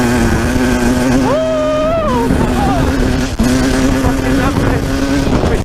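A 12-year-old two-stroke dirt bike revs hard under acceleration, its loud, buzzy engine note climbing and wavering in pitch and staying close and dominant throughout.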